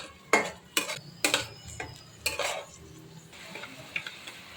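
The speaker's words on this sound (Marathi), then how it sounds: "मिरची मी थोडीशी मोठे मोठे चिरून घेतले त्यालाही आपल्याला एक दोन मिनटं परतून घ्यायचं" Chopped green chillies cut into large pieces are stirred in a pan for a chicken dish, giving several sharp scraping strokes of a spoon against metal over a soft, faint sizzle, close up with no talking.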